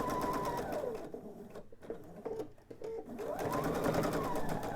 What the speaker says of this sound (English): So I'm going to sew that same 1/4 inch seam.